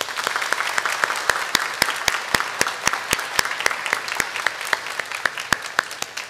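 A church congregation at a Sunday worship service claps steadily to welcome a new pastor and his wife, a dense, even round of applause with sharp individual claps standing out, lasting about six seconds.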